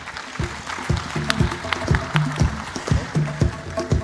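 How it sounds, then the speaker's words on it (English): An audience at an engineering summit panel applauds, a steady wash of clapping with sharp individual claps standing out over low thumping sounds. "Let's clap for our panelists."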